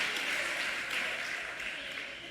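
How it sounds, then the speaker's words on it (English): An audience at a gubernatorial debate in the US Virgin Islands claps steadily, a dense wash of applause that is fairly faint and fades slightly toward the end. "Let's give them a round of applause for the lightning round."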